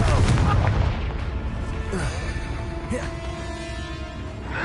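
A Confringo explosive spell goes off in the video game Hogwarts Legacy, a loud booming blast at the start that fades into rumbling game ambience with whooshing spell effects.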